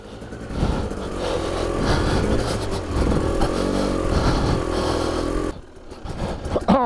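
A 2020 Husqvarna TE300i two-stroke dirt bike ridden at slow speed in map position 2, its engine burbling and revving as the throttle goes on and off, close and loud, then briefly dropping away near the end.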